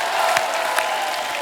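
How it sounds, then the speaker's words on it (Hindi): A studio audience at a TV dance talent show applauds to welcome new dancers, a steady wash of clapping at moderate level with a few sharper claps rising above it. "एक बार जोरदार तालियों से स्वागत कीजिए नए टैलेंट का।"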